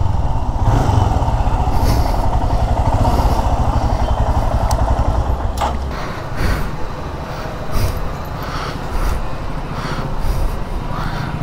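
A motorcycle running under a rider, its engine droning loudly and steadily close by, then easing into a lower, uneven rumble with a few scrapes and knocks in the latter half.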